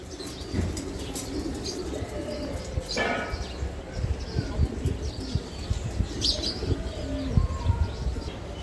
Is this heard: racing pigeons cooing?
yes